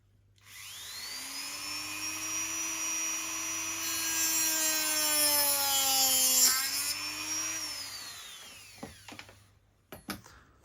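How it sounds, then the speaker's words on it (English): A Dremel rotary tool cuts through piston rings, spinning up to a high, steady whine that rises slightly under load, holds for several seconds, then winds down, followed by a few sharp clicks and taps. "Next stage is cut them with the Dremel and then fit them to the balls."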